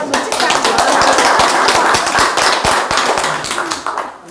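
Audience at a Buddhist lecture at Songgwangsa temple claps in a dense, loud burst of many hands that carries on steadily for several seconds, with a voice heard amid it.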